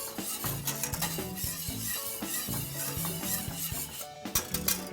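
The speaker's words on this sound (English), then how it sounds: "In the pot you go. Keep whisking." Pumpkin spice syrup being whisked in a pot on the stove, a steady run of metallic scraping and clinking from the whisk against the pot with soft bubbling beneath, close and continuous.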